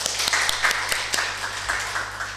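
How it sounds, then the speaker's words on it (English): Applause for keynote speakers at an online engineering conference session, a quiet patter of scattered claps with no voices over it. "please give virtual applause for both our keynote speaker"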